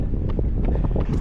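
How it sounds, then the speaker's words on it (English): Wind gusting across the microphone on a wet, rainy outdoor run, a steady rushing roar with no speech over it. "Oh, it's windy and rainy."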